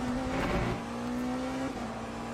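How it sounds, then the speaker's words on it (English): A race car in the Le Mans Ultimate sim racing game drives past, its engine drone holding a steady pitch before shifting as it pulls away. "As a car behind me goes sailing off."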